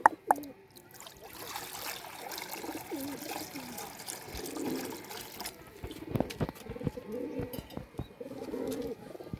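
Flying pigeons kept at home coo softly in low, throaty bursts, close by, with clatter and splashing water around them.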